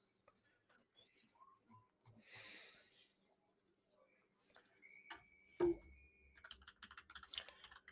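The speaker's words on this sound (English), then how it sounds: "Can you hear me typing anymore?" Keystrokes on a computer keyboard, quiet scattered clicks and short bursts of typing, with soft breathing and a brief louder thump near the end.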